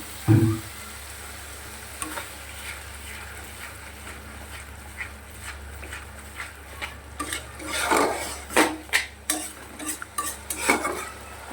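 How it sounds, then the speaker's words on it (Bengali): Spice paste fries in a wok under a low sizzle, while a spatula scrapes and clanks against the metal in irregular bursts that grow busier and louder toward the end. "আর একটু মশলাটা কষিয়ে নেবো ভালো করে"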